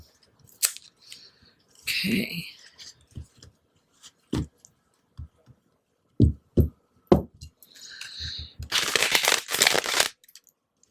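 Tarot cards are handled with scattered soft taps and clicks, then shuffled in a brief, dense, papery riffle near the end; a voice speaks briefly.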